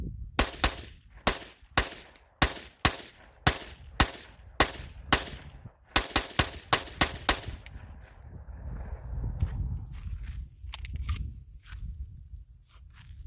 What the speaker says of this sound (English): We're going to shoot it out to 100 yards here.